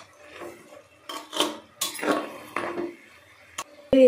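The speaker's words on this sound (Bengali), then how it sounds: "এটাকে ভালো করে একবার আলুর সাথে মাখিয়ে নিয়ে ভালো করে কষিয়ে নেব।" Vegetables and potato being stirred in a cooking pot for a winter mixed-vegetable curry, giving a few scraping, clattering utensil strokes against the metal pot in irregular bursts, close and moderately loud, with no talking.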